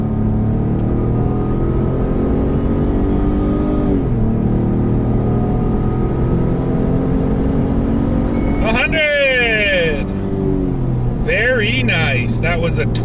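A 2021 Ford F-150 PowerBoost hybrid pickup accelerates hard on an empty road, its engine note climbing steadily under continuous cabin noise, heard from inside with brief chime-like tones near the end.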